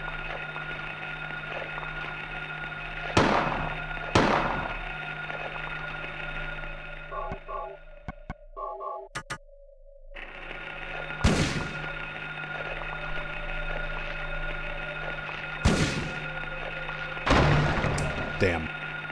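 Sharp gunshots from Silent Hill 1 ring out in a sparse pattern, a few loud blasts spread apart over steady game ambience, with a short burst of small electronic blips in the middle.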